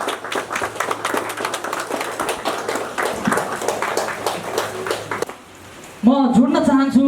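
Many hands clap for several seconds at an anniversary ceremony honouring elderly people as guests are invited to open the program. The claps break off into a brief lull, then musical tones start.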